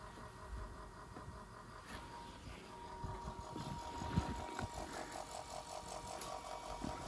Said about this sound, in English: Now you can see the pump is running the way it should be.